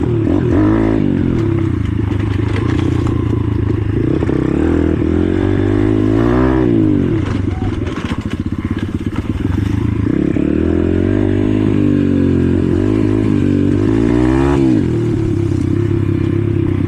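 A motorcycle engine drones and revs continuously while riding through a forest, with clattering, scraping and crackling noises mixed in as it moves over rough ground.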